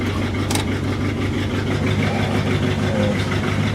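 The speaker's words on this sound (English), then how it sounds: "idling on its own and kind of chugging" A 1964 Ford Thunderbird engine idles on its own nearby, running rich with a steady low chugging beat and uneven pulsing throughout.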